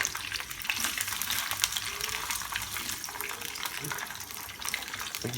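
Food frying in a pan with occasional stirring, a steady hiss of sizzling fat running throughout at moderate level, with faint scrapes and clinks now and then.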